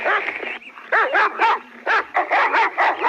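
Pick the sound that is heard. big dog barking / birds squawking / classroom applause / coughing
big dog barking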